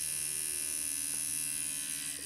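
Tattoo machine switched on at 5 volts with a Magic Moons needle cartridge fitted, giving a steady close electric buzz with a constant whining hum and no variation over a couple of seconds.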